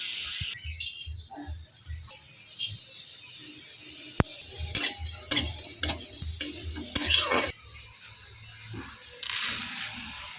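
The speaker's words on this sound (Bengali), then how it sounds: "মাংস রান্না করার জন্য শুকনো কড়াতে জিরে আর ধনেটা ভেজে নেব।" Cumin and coriander seeds being dry-roasted and stirred in a dry wok, with repeated scraping and rattling strokes, occasional clinks of a utensil, and a faint sizzle, close and fairly loud, no talking.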